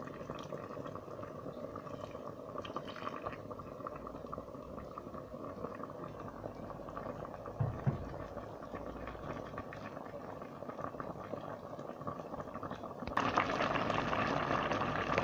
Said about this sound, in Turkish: ve şu anda yavaş yavaş ben suyunu katmak istiyorum yemeği arkadaşlar